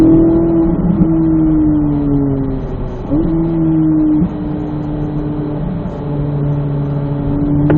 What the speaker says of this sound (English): One more lap here, Glenn.